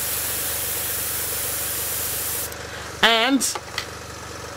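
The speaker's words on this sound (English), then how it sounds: "you can see the awesome control you have with a well-maintained airbrush" A Sparmax Max-3 airbrush sprays, fed by an ARISM AC66HX compressor, giving a steady close hiss for about two and a half seconds before it drops away and a voice speaks briefly.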